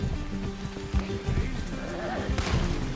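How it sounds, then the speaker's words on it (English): A horse gallops in Red Dead Redemption 2, hooves beating fast and steady up close, with a brief whinny partway through and talk in the background. "Gostei desse cavalo malhado"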